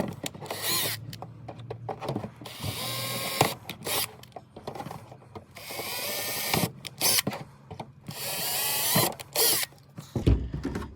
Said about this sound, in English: We will start by drilling 4 holes in the support here.